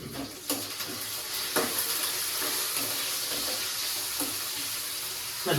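Cashews and green chillies fry in hot oil in a pan for Mughlai chicken, giving a steady sizzle broken by a few sharper crackles and stirring scrapes at moderate loudness.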